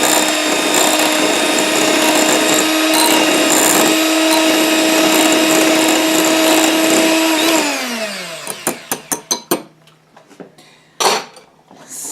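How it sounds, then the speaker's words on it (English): An electric whisk runs steadily and loudly while blending homemade leave-in hair conditioner, its motor whine holding for several seconds before winding down into clinks and taps. "and then whisk a bit more"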